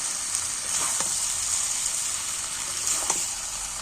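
Chicken curry masala sizzling and frying steadily in a pan, a bright continuous hiss with a few soft stirring scrapes, close and alone without any voices.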